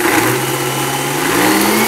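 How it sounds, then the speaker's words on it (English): Blender running on high, blending moringa leaves under a tightly sealed lid, a loud continuous motor whir that rises slightly in pitch near the end, with no talking. "Now, let's blend."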